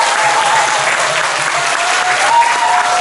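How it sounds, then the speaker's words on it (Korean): A room of people at a women workers' discussion forum claps enthusiastically, loud, close and sustained applause with no pauses. "박수 한번 힘차게 쳐볼까요?"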